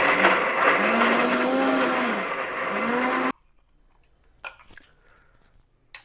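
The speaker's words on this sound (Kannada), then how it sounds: "ಓಕೆ, ಈರುಳ್ಳಿ ಮಿಕ್ಸಿಗೆ ಹಾಕೋಣ ಫಸ್ಟು" A kitchen mixer grinder whirs loudly as it blends onions for North Karnataka style chicken, its motor pitch wavering for about three seconds before cutting off abruptly, followed by a few faint clinks.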